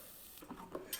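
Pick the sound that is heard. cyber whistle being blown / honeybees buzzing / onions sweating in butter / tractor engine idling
onions sweating in butter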